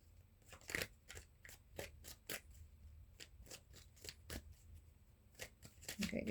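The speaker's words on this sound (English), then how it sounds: "Okay, good shuffle." A deck of tarot cards is shuffled in a run of soft, crisp snapping flicks at an uneven rhythm, close but very quiet.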